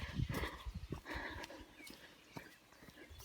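A horse in a field moves about at a moderate distance, soft hoof clops and shuffling sounds in an irregular rhythm, fairly faint against quiet outdoor ambience.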